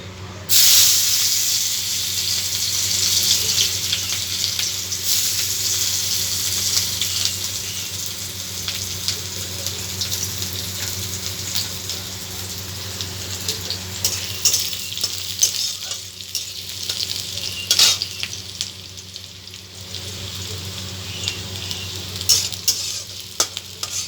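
Chopped onion for masoor dal sizzles and crackles in a hot pan, a loud, steady frying hiss that runs the whole time, broken by scraping stirring strokes.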